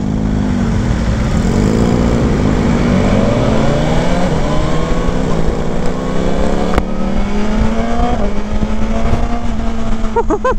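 A 2021 BMW S 1000 XR motorcycle pulls hard at full throttle, engine note climbing loud and close through successive gears with a brief dip at a shift, wind noise over the top.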